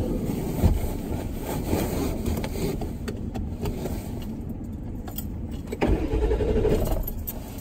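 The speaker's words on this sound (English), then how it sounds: "My car won't start." A car engine cranks continuously without catching, a steady grinding drone with a slightly louder surge near the end, and no talking.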